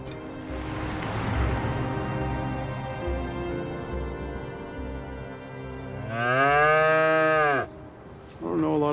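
A cow moos loudly and close, one long drawn-out low call that swells and rises before cutting off, with quiet outdoor ambience around it.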